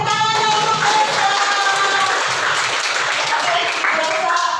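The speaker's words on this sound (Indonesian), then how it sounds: "tepuk tangan untuk Desta." Students in a classroom clap together, a dense, steady applause that fills the short stretch at even loudness, with a few voices mixed faintly underneath.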